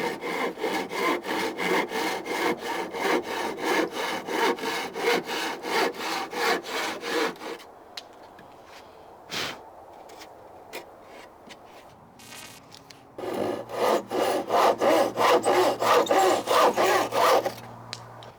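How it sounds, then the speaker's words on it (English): A hand saw cuts through wooden table legs in fast, even back-and-forth strokes, close and loud, pausing midway before a second burst of sawing. "So I'm going to go back to the trusted hand saw to actually make these cuts."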